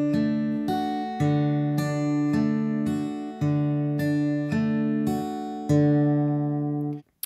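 Acoustic guitar fingerpicked in a thumb, second, first, third finger order, a rippling repeated arpeggio over held chords, close and clear, ending abruptly.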